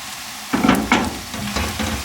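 Crumbled cake is tipped into potatoes cooking in oil for a sweet potato halwa, giving a few close rustling thumps and a soft sizzle that fades into steady frying, with no talking.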